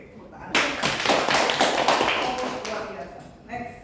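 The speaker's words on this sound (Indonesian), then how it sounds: "tepuk tangan" Audience clapping at an anti-corruption legal outreach session in Indonesia, a burst of many hands beginning abruptly and holding steady for about three seconds before fading, with a brief voice afterward.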